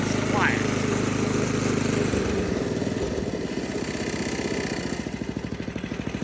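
A Craftsman snow blower engine running close by, a steady buzzy drone that shifts pitch partway and settles into a rhythmic chug with metal shrouding rattling.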